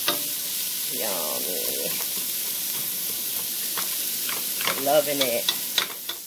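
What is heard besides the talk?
oxtail stir frying in a pan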